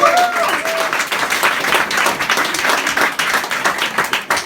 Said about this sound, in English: Big round of applause, I think, for Simon Dixon.